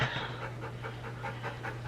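A dog pants close by in quick, steady rhythmic breaths that run through the whole moment over a low constant hum, with no talking.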